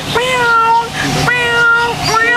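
A voice imitates a cat with three drawn-out, nasal meows in quick succession, loud and close.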